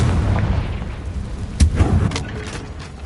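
A Confringo spell blast in the Hogwarts Legacy video game, a deep booming burst with a sharp crack near the middle, set over continuous low rumbling combat noise.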